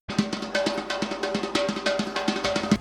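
A dhol drum beats in a steady, driving rhythm, sharp strokes layered with booming low hits, loud and close, playing with no voices.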